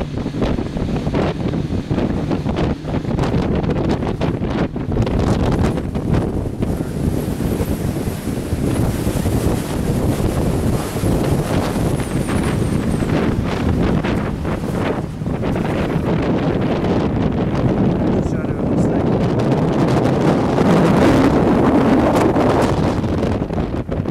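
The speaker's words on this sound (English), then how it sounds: "It's not as steady as I'd like it to be because it's so damn windy." Strong gusty wind buffets the microphone at the Ben Aketil windfarm on Skye, Scotland, a loud continuous rumbling roar that stays heavy throughout with no speech.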